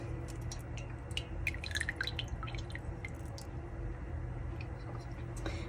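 Whey drips from homemade village cheese curds, made with vinegar and yogurt and hung in tulle cloth: faint, scattered close drips, irregular in rhythm, over a low steady background hum.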